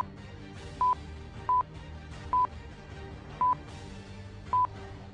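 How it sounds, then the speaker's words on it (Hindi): Five short electronic keypad beeps from a cockpit door keypad at uneven intervals, each a clean single tone, over a low hum of background noise. "जब लुबिट्ज ने फोन नहीं उठाया तो पायलट ने हैश बटन दबाया"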